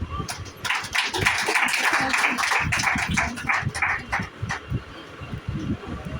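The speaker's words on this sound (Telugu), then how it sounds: "మీ చేతులు పైకెత్తి గట్టిగా క్లాప్స్ కొట్టండి ఒకసారి" A church congregation claps loudly together during a Sunday worship service, a dense continuous burst of many hands for about five seconds before thinning out.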